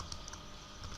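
A title is typed on a computer keyboard, producing soft, quick key taps in an irregular rhythm, faint and close, with no talking.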